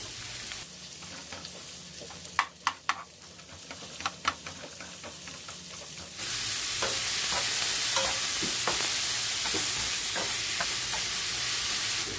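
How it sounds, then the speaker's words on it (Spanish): Onion sautéing in a pan until translucent, with steady frying sizzle throughout, a few stirring clinks early on, then a louder, brighter hiss of sizzling for the second half. "Después de 4 minutos que se está sofriendo aquí la cebolla"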